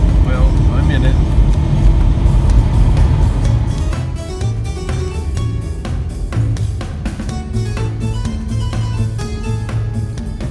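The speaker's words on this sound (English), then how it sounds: "showing all the traffic you have to go through to get to the mountains" Car interior while driving in road traffic toward the mountains, a low engine and road rumble under continuous talking, with music-like tones playing in the cabin.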